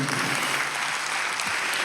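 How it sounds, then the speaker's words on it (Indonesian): A church congregation gives a short, lively round of applause during a sermon, dense clapping from many people filling the space. "Tepuk tangan yang meriah."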